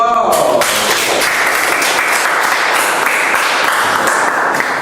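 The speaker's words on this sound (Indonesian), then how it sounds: "Beri aplaus" A classroom audience applauds a student group's presentation in an economics class, a dense burst of clapping starting abruptly after a short spoken phrase and continuing steadily, close and loud.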